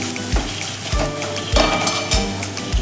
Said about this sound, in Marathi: 1 मिनिटभर आपण हे छान असं परतून घेऊयात